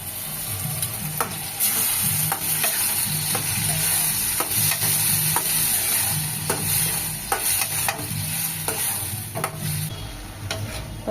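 Garlic and ground tomato sautéing in a pan, a steady close sizzle with repeated sharp clicks of a spoon stirring against the metal, continuous throughout and no one speaking.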